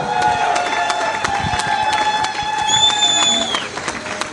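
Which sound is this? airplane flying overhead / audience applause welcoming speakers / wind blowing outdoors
audience applause welcoming speakers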